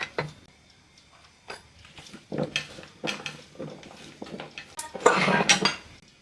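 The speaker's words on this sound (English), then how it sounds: "So we'll start by tossing the sweet potato with some olive oil." Sweet potato being tossed with olive oil in a bowl, with irregular close clinks and scrapes of a utensil against the bowl, sparse at first and then a louder burst of clatter near the end, no talking.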